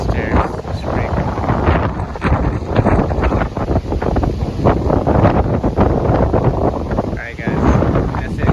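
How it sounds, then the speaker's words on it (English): Strong wind roars across the open deck of a huge cruise ship, Icon of the Seas, at night, a loud, steady buffeting rush on the microphone with a person talking underneath. "It's super windy."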